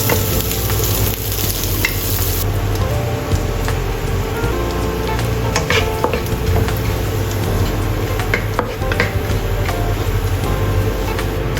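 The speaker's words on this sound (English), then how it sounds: "Fry dried shrimps until fragrant." Dried shrimps fry in a pan with a loud, continuous crackling sizzle, with scattered scraping stirs and a low steady hum beneath.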